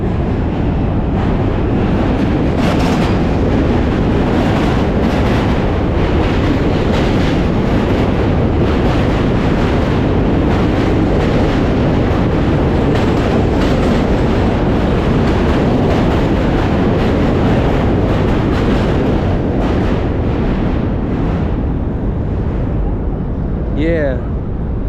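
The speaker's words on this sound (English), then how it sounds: "We also got another train coming" A train crossing the Manhattan Bridge roars and rattles without a break, loud and close, with dense clattering of wheels on the steel span and gusty wind buffeting the microphone throughout.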